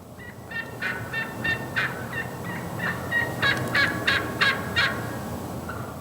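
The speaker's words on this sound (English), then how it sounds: "That was really cool, hearing a hen turkey call like that." A wild hen turkey calls in a quick series of close, repeated yelps and clucks, rising and falling in bursts over faint outdoor background noise.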